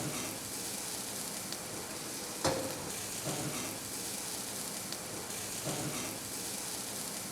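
Onions and green chili frying in a pan in an Australian beach-house kitchen give a soft, continuous sizzle at moderate distance, with a few sharper clicks and crackles breaking through.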